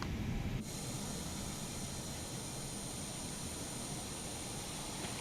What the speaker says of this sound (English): let's get engine number 2 fired up before we make our turn